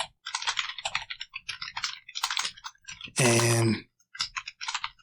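Rapid bursts of clicking keystrokes on a computer keyboard come in several short runs separated by pauses, close and clear, with one brief spoken word in the middle.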